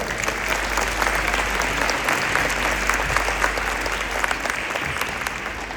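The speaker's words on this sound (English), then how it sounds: "Let's give all of our amazing band boosters a nice big round of applause" An audience at a school Christmas band concert gives a steady, full round of applause for the band boosters. Dense clapping from many hands fills the room for several seconds with a low hum underneath.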